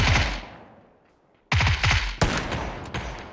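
Pistol gunfire in PUBG, a rapid cluster of loud, sharp shots up close, then a brief lull before more cracking shots and echoing reports, with no talking.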